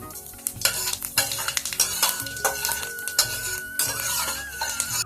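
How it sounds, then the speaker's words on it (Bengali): Dried red chillies and panch phoron spice mix frying in mustard oil in a wok, with a steady sizzle broken by repeated clinks and scrapes of a stirring utensil against the pan. "এবার কড়াইতে সর্ষের তেল দিয়ে দিলাম শুকনো লঙ্কা দিয়ে দিলাম পাঁচফোড়ন"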